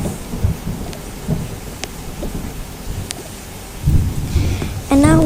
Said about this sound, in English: the sound of the thunderstorm and the heavy rains are actually so scary